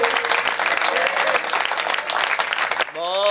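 Audience applause at a kavi sammelan poetry recital sounds as a thick wash of clapping from a crowd for about three seconds before it cuts off and a voice begins.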